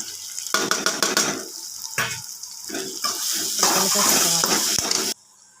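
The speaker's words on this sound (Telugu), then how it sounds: "ఇప్పుడు వేసేస్తున్నాను చామదుంప రొయ్యలు" Taro and dried shrimp drop into a hot pan and are stirred, bursts of sizzling and clattering scrapes giving way to loud, steady frying hiss that cuts off abruptly, with no talk.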